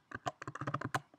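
Quick, close clatter of a computer keyboard as code is typed for a Flutter e-commerce app, a burst of about a dozen sharp keystrokes in rapid, uneven rhythm with no voice over it.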